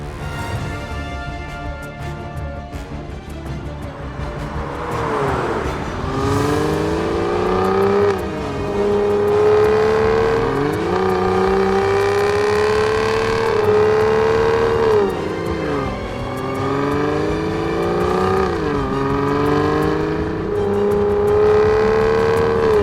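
A BMW E34 535i engine drones steadily while driving, with repeated rises in pitch as it accelerates through gears and drops back between shifts.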